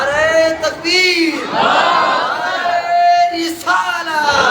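A crowd at a Mehfil-e-Milad religious gathering roars back the takbir slogan in loud unison, answering a leader's calls in two short surging bursts.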